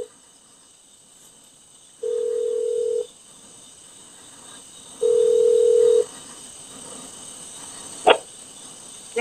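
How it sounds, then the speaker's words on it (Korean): Telephone line tone in an abandoned motel: two steady beeps of about a second each, separated by silence over a faint insect-like hiss, followed by a sharp click near the end. "지금 전화 받는다."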